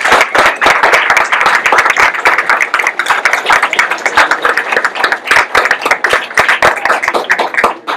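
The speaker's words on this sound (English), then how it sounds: "let's give a round of applause to everyone that spoke." Dense, steady applause from a group at a neighborhood association election meeting, many hands clapping loudly and continuously throughout.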